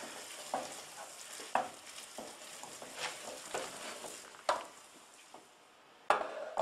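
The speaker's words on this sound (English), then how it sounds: "we've now been cooking the vegetables and the roux, the flour and butter down for a couple of minutes" Vegetables cook down with a flour-and-butter roux in a pan for a mushroom and tarragon velouté, giving a soft, steady sizzle. Occasional sharp scrapes and knocks of stirring cut through at close range, and no one speaks.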